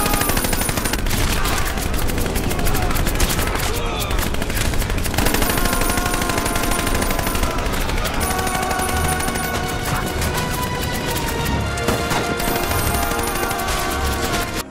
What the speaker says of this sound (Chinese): 等待他们的是连长架起一挺重机枪，向他们扫射